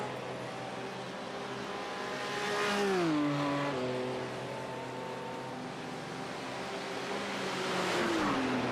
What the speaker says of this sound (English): we've got a battle at the front here then with these 2 snarling BMWs